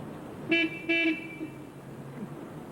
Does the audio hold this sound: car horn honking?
yes